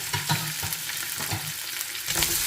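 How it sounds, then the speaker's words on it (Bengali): Cut potatoes fry in hot oil that was just used for eggplant, giving a close, steady sizzle and crackle with a few soft stirring scrapes and no talk. "এবার এই তেলে একটু আলু কেটে রেখেছিলাম আলুটাকেও দিয়ে দেবো"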